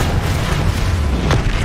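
A Bombarda explosion spell in Hogwarts Legacy, a loud, dense booming blast that fills the whole brief moment with heavy low rumble.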